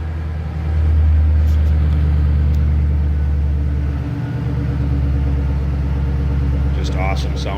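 Low, steady rumble of a supercharged 4.6 V8 in a 2006 Saleen S281 Ford Mustang convertible idling through its center-dump exhaust, heard close and continuous with a slight dip midway and a brief higher squeal near the end.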